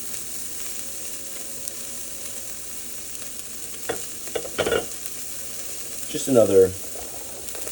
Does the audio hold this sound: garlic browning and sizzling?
yes